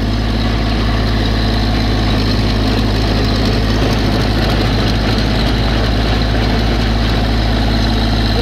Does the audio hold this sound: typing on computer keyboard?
no